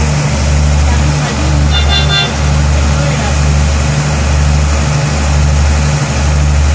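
A CNR diesel railcar triple unit idles at the station with a loud, steady engine drone that pulses rhythmically, joined by a brief high tone partway through, with a voice talking over it.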